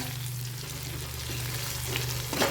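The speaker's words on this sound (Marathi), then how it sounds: "आता आपण यामध्ये हे भरपूर तीळ आणि भरपूर जिरं टाकायचं." Sesame seeds and cumin sizzle steadily in a pan while making tomato chutney for dosa, a constant close crackle with a low hum beneath and a slight stir near the end.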